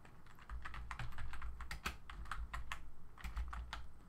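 Quick keystrokes on a computer keyboard, a steady run of close, crisp clicks with short pauses between bursts, entering a layer name in Photoshop Elements.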